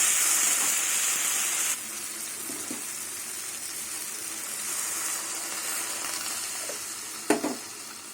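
Water goes into a pan of frying fish curry with potatoes and broad beans, giving a loud rushing hiss that settles into a steady simmering sizzle with a brief clatter near the end.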